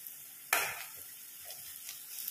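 Cloves drop into onions frying in hot oil, setting off a sudden sharp sizzle that fades to a quieter, steady crackle while the pan is stirred.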